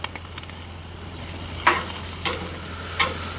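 Chicken thighs sizzle steadily on a Monument Grills Mesa II 410FBZ gas grill while a few soft scrapes and taps from a utensil mark the flips, close and without speech.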